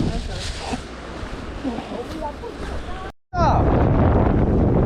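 Wind gusts and high waves wash against a rocky Korean shoreline during a seaweed-harvesting outing, a loud broadband roar with buffeting on the microphone, briefly cutting out before surging back, while people talk nearby.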